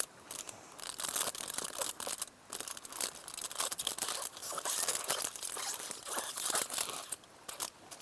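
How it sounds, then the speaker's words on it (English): Foil wrapping is peeled off a field blank air sampler, giving a close, continuous run of crinkling and crackling with short tearing bursts and brief pauses, no voices. "you would just unwrap the foil"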